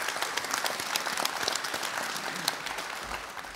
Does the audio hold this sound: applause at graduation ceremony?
yes